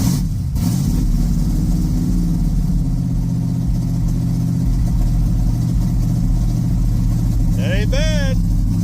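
An old car engine runs loud and steady just after a cold start, a continuous rough idle with a brief catch near the start. Someone speaks briefly over it toward the end.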